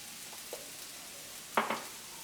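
Chopped leeks fry quietly in a pan with a soft steady sizzle, broken by a few faint scrapes and a couple of sharper clinks as they are stirred.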